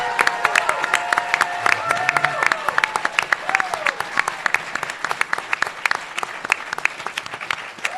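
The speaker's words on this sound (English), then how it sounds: "With quick applause, if we could." Audience applauding after the argument in a university law school moot court competition final, a dense sustained clapping crowd lasting several seconds, fairly loud and close, with a few voices murmuring underneath.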